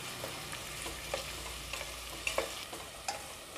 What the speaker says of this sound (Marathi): कांदा आपल्याला परतून घ्यायचा आहे